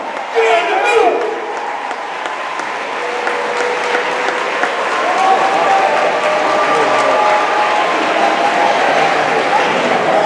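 Sustained applause from a crowd at a middle school athletic banquet honoring an undefeated boys' team, steady clapping filling the room for the full stretch with a few voices mixed in.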